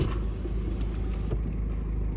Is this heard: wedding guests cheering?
no